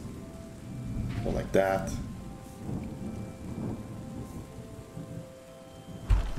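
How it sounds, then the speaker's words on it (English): Rain and rumbling thunder from the video game Terra Nil form a steady, soft rain bed with low thunder rolls, under a person talking briefly. "this rain sounds very nice, but it's a bit too loud"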